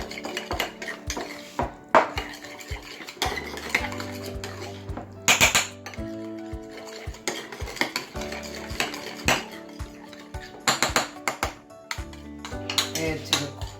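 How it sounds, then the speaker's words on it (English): A spoon stirs mayonnaise and lemon juice sauce in a bowl, repeated clinks and scrapes against the dish in an irregular rhythm, close and clear with no talk. "Mix the sauce together."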